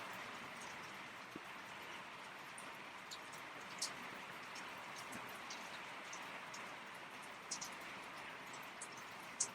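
Heavy rain falls steadily as a continuous broadband hiss, with occasional sharper drips or taps standing out now and then; no talking is heard.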